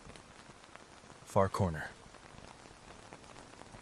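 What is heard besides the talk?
rain at night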